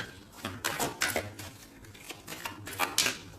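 Tarot cards are handled and cut, giving a string of quick, crisp clicks and slaps in short bursts, close and fairly quiet with no talk over them.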